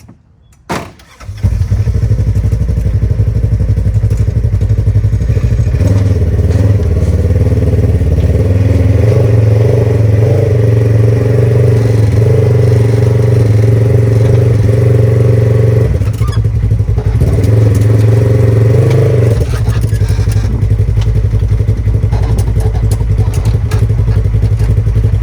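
A Polaris RZR XP1000 side-by-side engine runs loud and close at a steady drone after a short quiet start, with the pitch shifting slightly as it drives off-road.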